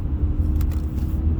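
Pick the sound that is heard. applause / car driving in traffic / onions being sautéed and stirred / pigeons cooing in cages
car driving in traffic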